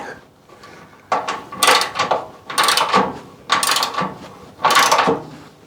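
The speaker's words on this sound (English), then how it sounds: "I'm going to put the bolt in from this side, because it'll be easier to put the nut on the end of the bolt" A bolt and nut are tightened on a Ford Consul front wing during repair, heard as several loud, close ratcheting and clicking bursts in quick succession with short gaps between them.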